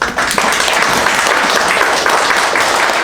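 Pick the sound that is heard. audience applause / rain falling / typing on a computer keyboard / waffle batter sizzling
audience applause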